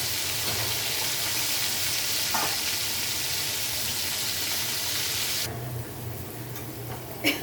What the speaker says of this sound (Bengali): মাছ যে বাড়ছি ওই তেলেই পেঁয়াজগুলো দিয়ে দিচ্ছি।